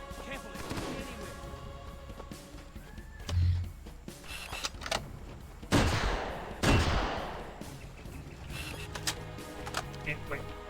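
Gunfire in the Halo SPV3 game crackles in scattered bursts, with a few louder shots standing out against the game's background sound, and someone talks over it.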